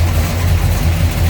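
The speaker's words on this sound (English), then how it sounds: "A little rumble coming out of that big block" A 1970 Chevrolet Chevelle Malibu hardtop's 454 big block V8, fitted with headers and a reinstalled intake, idles with a steady, deep low rumble, close and continuous with no voices.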